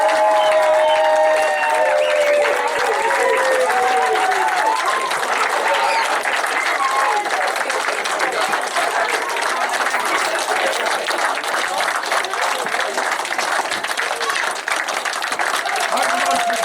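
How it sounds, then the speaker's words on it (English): Wedding guests greet the bride and groom with loud, sustained applause and some cheering and whistles near the start, many hands clapping close by in a continuous wash that carries on to the end. "give a huge round of applause to welcome your bride and groom, Mr. and Mrs. Richards."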